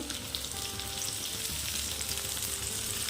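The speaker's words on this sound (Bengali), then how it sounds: "দেখুন সবগুলো কিন্তু আমি উল্টে দিলাম এগুলো ভাজা হতে থাক" Cabbage and egg fritters fry in a pan of oil, giving a steady, dense sizzle that stays even and close throughout, with no voices.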